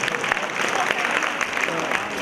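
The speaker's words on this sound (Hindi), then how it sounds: "इनके लिए भी जोरदार तालियां" Applause from an audience at a school Islamic quiz contest, greeting a team taking the stage, a steady dense wash of clapping filling the whole stretch at moderate loudness, with some voices mixed in.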